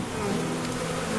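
A honeybee swarm buzzes in a dense, continuous drone, with drone bees mixed in among the workers, close and steady throughout.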